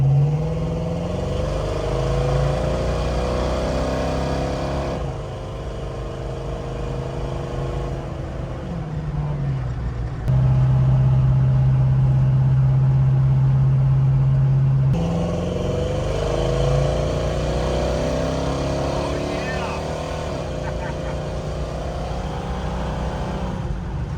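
Engine of a 1970 Dodge Challenger R/T convertible revving loudly up close, with rising and falling tones and a steady held high-idle stretch in the middle, no talk.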